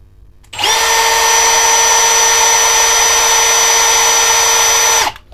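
A Milwaukee cordless drill spinning at its lowest speed setting, starting abruptly into a steady, close, high whine that holds for about four and a half seconds and then stops.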